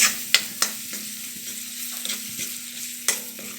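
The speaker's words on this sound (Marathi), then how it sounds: "तेल सुटेपर्यंत ह्याला नीट असं परतून घेऊया" Tomato masala with coriander powder and spices sautéed in oil, steady close sizzling and frying with a low hum, punctuated by several sharp spatula scrapes and taps against the pan.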